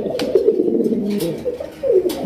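Large Rasgolla pigeons on a farm coo in repeated low throaty phrases, close and fairly loud, with overlapping calls running throughout.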